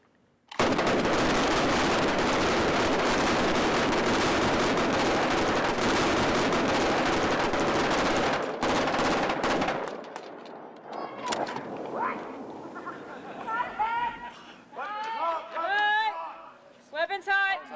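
Long, loud burst of sustained machine gun fire from a staged shootout on the Breaking Bad set, roaring continuously for several seconds before cutting off, followed by crew voices talking.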